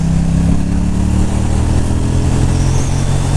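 A KTM 790 Duke motorcycle fitted with new sprockets pulling hard in fifth gear during an overtake, a loud, steady, low engine drone with buffeting wind, heard close from the rider's position.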